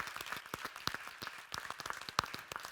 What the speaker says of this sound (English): But I would really appreciate if we can give a huge round of applause to Britt, Jens, and Tanguy for coming here